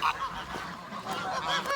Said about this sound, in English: Goose, goose, goose.